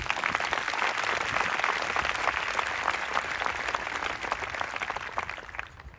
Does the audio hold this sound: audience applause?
yes